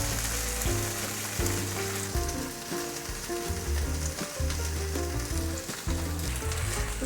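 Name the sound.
bean sprout and carrot patties pan-frying in a pan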